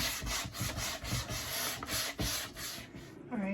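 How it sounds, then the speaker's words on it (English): Sandpaper is rubbed by hand over a wooden table top in quick, rhythmic back-and-forth strokes, a close, scratchy rasp repeating about twice a second, with no speech. "I distressed it quite a bit with the sandpaper"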